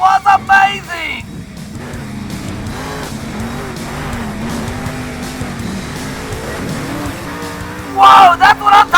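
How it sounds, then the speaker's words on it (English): Monster truck engine roaring and revving while doing donuts in Monster Jam Steel Titans, a video game, with steady engine drone, tire squeal and skidding throughout and brief voices at the start and end. "And Monster Mutt Dalmatian's getting in some donuts."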